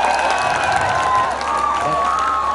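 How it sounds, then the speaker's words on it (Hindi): Audience applause at a dance competition semi-final, steady crowd clapping mixed with cheering and a loud musical tone throughout. "ग्रुप परफॉर्मेंस के लिए कम से कम तालियां तो बजा दिया करो आप दो।"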